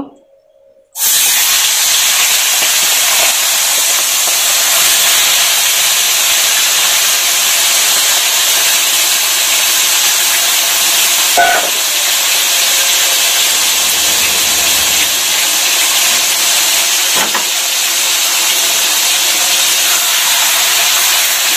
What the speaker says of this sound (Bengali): এখন এই তেলের মধ্যেই মাংসগুলোকে একটু ভেজে নিব।